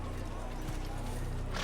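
Horse hooves clip-clopping at a steady trot in an Assassin's Creed game, a rhythmic rapid beat under a dense wash of game ambience.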